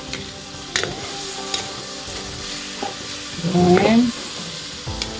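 Chicken pieces frying in their own rendered fat for ginataang manok, a steady sizzle with a few scraping stirs, and a brief louder burst near the end, under a few short spoken words.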